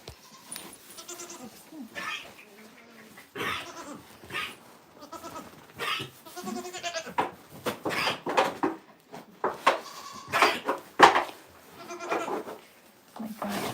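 A goat bleats repeatedly while being weighed on a farm, loud, close, wavering cries coming in irregular bursts, some overlapping, with thumps and shuffling between them.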